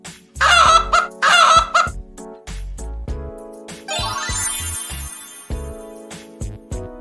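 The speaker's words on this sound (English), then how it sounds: "Chicken." A farm chicken clucks in two quick bursts of calls near the start, set against steady background music with a light beat that carries on after the calls stop.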